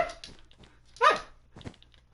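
Dogs outside bark a few times, one sharp bark standing out loudly amid quieter yips in a short burst.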